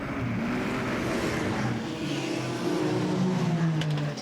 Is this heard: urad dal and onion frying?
no